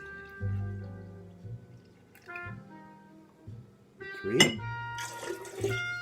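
Tea poured into a measuring cup for a martini, a short liquid trickle and splash with a few light clinks, heard close up in a quiet room, with brief speech around it.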